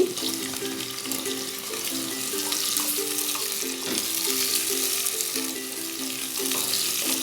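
Cut potato pieces and onion fry together in a pan with a steady, close, fairly loud sizzle. A musical tone runs underneath throughout and no one speaks.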